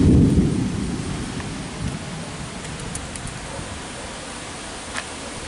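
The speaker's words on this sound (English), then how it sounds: "It's raining pretty hard" Heavy rain pours steadily while a deep roll of thunder rumbles at the start and fades away, leaving a constant broad hiss.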